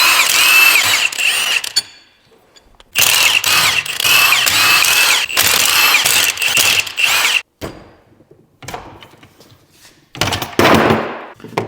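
Power tool, likely an impact gun, zipping off the 14 mm bolts that hold a car transmission case together, in several loud close bursts of a few seconds each with short pauses between them.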